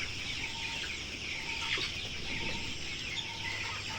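Color-bred broiler chickens about 31 days old in a poultry farm shed cluck steadily, fairly faint under constant fan-like noise, with no voices.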